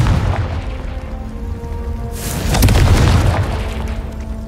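A Confringo blasting spell explodes in the Hogwarts Legacy video game, a loud booming burst that swells midway over a steady rumbling game background and then slowly fades.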